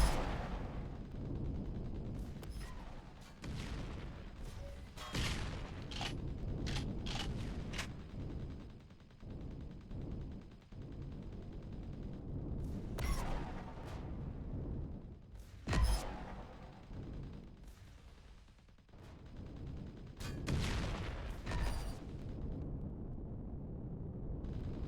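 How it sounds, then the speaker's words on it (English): Gunfire and explosions in the space survival game Empyrion, with bursts of rapid shots and heavy booming blasts scattered through a continuous low rumble, some close and loud, others duller. "what is shooting me that's making explosions like that happen?"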